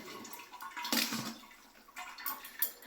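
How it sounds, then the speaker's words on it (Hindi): Cold tap water pours and splashes over boiled chowmein noodles for rinsing, a steady close rushing stream with surges and gurgles, no talk. "इसमें ठंडा पानी ऐड कर लेंगे ताकि थोड़े ठंडे पड़ जाएं, तो ये कुक नहीं होंगे।"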